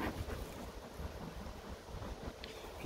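Outdoor wind rushes softly and steadily past the microphone during beehive treatment with oxalic acid, a faint broadband hiss with light low rumbles and no talking.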